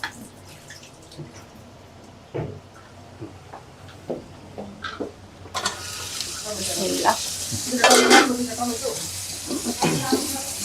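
Potatoes and vegetables including cauliflower and beans frying in a pan, a steady sizzle that swells louder midway as more food is added, with stirring clatter and occasional speech nearby.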